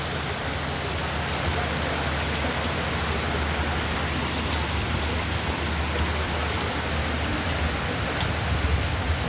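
Steady, heavy rain pouring down, a dense continuous hiss of drops hitting surfaces, with no pauses or voices.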